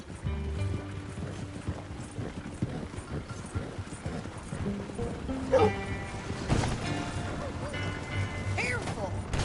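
Horse hooves clip-clopping at a gallop in Red Dead Redemption 2, a steady rhythmic beat running under game music and speech, with occasional louder thumps and effects.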